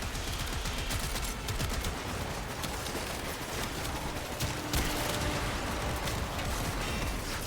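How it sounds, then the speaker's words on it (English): Dense, steady gunfire and weapon noise from a Warframe fight fill the whole stretch at moderate level, one continuous busy wash of shots with no clear single grenade launch standing out. "Kinda want to shoot a grenade into here before I go."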